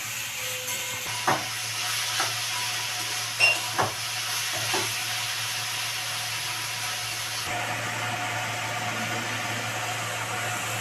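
Onion frying with a spoonful of salt in a pan gives a steady, even sizzling hiss, with a few soft clicks of stirring early on.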